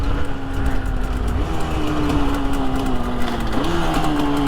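A 1966 Suzuki 150 two-stroke motorcycle engine warms up, holding a steady nasal buzzing idle with small pitch wobbles, close and fairly loud with no talk.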